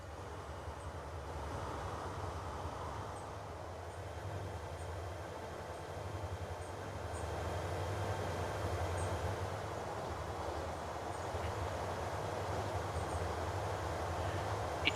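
Freight train hauling refined oil in Transport Fever 2, a faint, steady low rumble of rolling rail cars with an airy whoosh, rising gently over fifteen seconds and heard alone.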